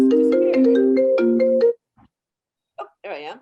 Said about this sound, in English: My computer was ringing.